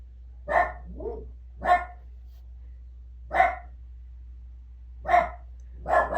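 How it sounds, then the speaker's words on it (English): Two dogs bark back and forth, one indoors and one outside, in five sharp separate barks spaced about a second or more apart, fairly close, with a soft whimpering yip between the first two. "Hear the dogs. Ben's outside barking."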